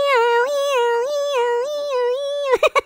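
A high, wavering voice imitates a siren, gliding up and down in a steady wee-oh pattern, then ends in a few short choppy bursts.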